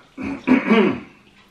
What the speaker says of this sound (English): excuse my clearing my throat there